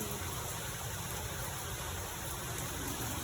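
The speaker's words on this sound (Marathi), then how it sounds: "काय पाऊस आहे" Heavy rain falls steadily outdoors, a dense, unbroken hiss of drops that stays loud and even throughout, with no voices.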